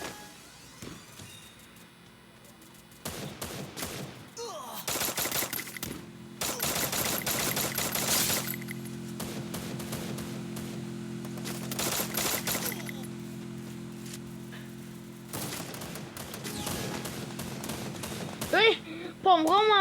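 Bursts of rapid automatic gunfire from the Free Fire video game, several sustained volleys with short gaps, fairly loud, with a voice talking at times.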